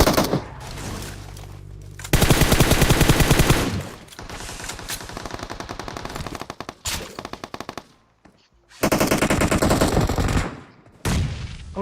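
Rapid automatic weapon fire in the battle-royale game PUBG Mobile comes in loud sustained bursts separated by brief pauses, with several distinct volleys and a near-silent gap before the shooting resumes.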